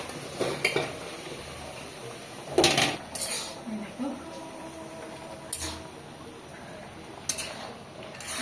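Pumpkin greens stirred in a cooking pot in a Bangladeshi village kitchen: sharp metal spoon scrapes and clanks recur every second or two over a soft background murmur.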